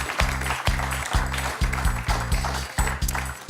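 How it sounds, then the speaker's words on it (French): Studio audience applause on the French TV quiz show Questions pour un champion, with bright rhythmic clapping bursts over a repeating musical jingle throughout. "On peut applaudir Damien."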